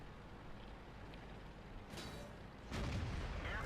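A tank cannon fires in the World of Tanks game, the shot landing as a booming blast near the end over a steady engine rumble, with a fainter report just before it.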